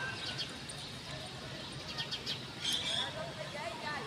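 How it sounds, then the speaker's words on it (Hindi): Birds chirping in a park, with scattered faint high tweets over steady background noise and nearby voices. "देखो कितनी सारी चिड़ियाँ हैं।"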